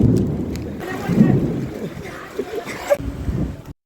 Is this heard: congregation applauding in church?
no